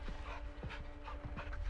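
A caged dog in the video game Modern Warfare II pants quickly and rhythmically close by, with faint whimpering breaths over a low background hum.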